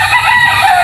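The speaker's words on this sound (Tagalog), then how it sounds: "i-check din natin yung mga alaga nating mga manok" Loud, close chicken calls from farm chickens fill the short moment, a rough crowing cry over a bustle of fowl noise.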